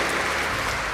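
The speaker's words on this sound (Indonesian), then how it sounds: "Tepuk tangan untuk para Civitas Akademika dan semua yang terlibat dalam pendidikan ini." Audience applause at a university public lecture, a dense steady wash of clapping from a large crowd filling the whole second with no voices over it.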